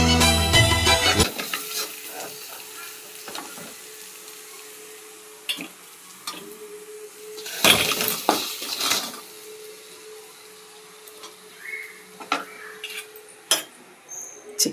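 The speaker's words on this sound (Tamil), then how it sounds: "சிக்கன் வறுவல்." Chicken fry sizzles in a home pan at night, with scraping stirs and metallic clinks of a utensil against the pan in scattered bursts, loud clatter at the start and a few sharp knocks later; nobody speaks.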